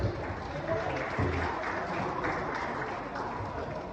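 Audience applause during a leadership training event, steady dense clapping from a crowd at moderate level, with some voices mixed underneath throughout.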